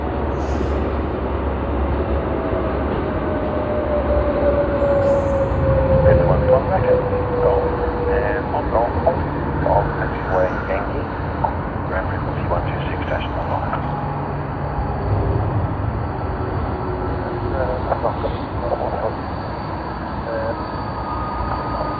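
A British Airways jet at Sydney Airport produces a sustained engine roar with a slowly gliding whine, loud and steady, while someone talks over it throughout.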